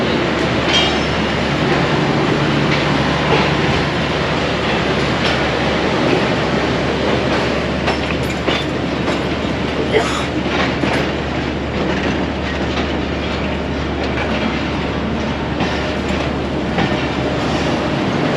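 Mianwali Express passenger train rolling along the rails, a loud steady rumble with rhythmic clickety-clack of wheels over joints and continuous wind noise, with no talking.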